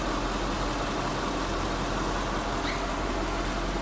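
The V8 of a 1999 Mercedes-Benz SL500 convertible idles in a steady, even hum with no revving, heard close and alone.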